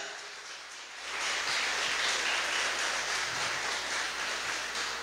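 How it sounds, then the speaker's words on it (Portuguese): After a quieter opening second, a church congregation erupts into dense, continuous applause that stays loud and even through the rest of the moment. "Uma salva de palmas para o Senhor, irmão."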